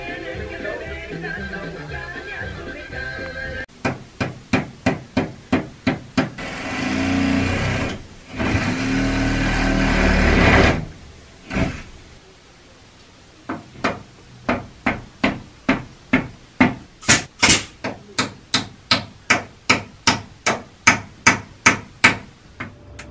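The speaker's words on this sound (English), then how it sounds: "Contractors fixing the fence. It's really loud. Jackhammer." Rapid bursts of sharp, repeated banging from contractors hammering and jackhammering while fixing a fence, in quick rhythmic runs with short pauses, loud and close, with a noisy mechanical stretch in the middle.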